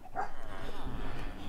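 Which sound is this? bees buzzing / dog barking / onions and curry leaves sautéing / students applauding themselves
dog barking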